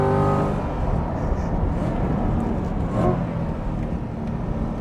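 A Corvette hybrid's V8 engine runs at speed on a race track in Australia. It is a steady, loud, close engine drone with a brief swell near the end.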